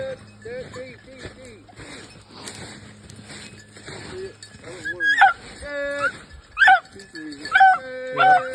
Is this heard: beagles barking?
yes